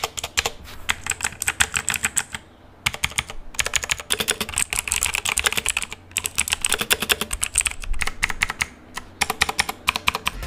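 Fast, steady typing on a Razer BlackWidow V3 TKL mechanical keyboard with tactile switches: dense bursts of crisp, close clicks separated by brief pauses, loud and alone.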